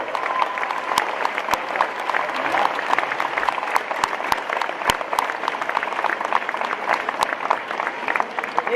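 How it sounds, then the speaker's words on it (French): An audience applauds steadily at a gymnasium inauguration in La Londe-les-Maures, sustained clapping at moderate distance with a few sharper individual claps standing out, no talk over it. "Je vous demande d'applaudir très fort notre conseiller départemental, président du département, Marc Giraud."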